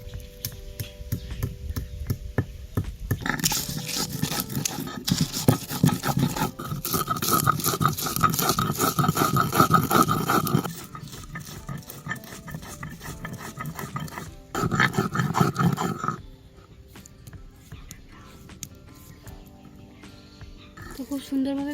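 Onion, green chilli and three cloves of garlic being ground together into a fine paste for a sand crab dish, heard as loud, close grinding in two bursts, a long one and a shorter one, with quieter gaps between.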